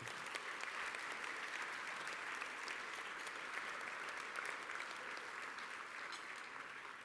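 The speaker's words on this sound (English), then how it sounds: "Let's give a round of applause for her." Sustained audience applause at a university law alumni association recognition luncheon, a steady broadband clatter of many hands clapping at moderate distance, holding for several seconds and tapering slightly at the end.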